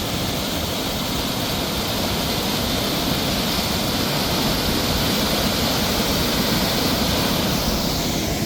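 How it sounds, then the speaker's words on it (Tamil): Water pours from the opened sluice gates of the Iranaimadu reservoir, a steady, loud, unbroken roar of falling water that stays even from start to end. "பாருங்க எப்படி அடிக்குது அந்த தண்ணி விழுகுது."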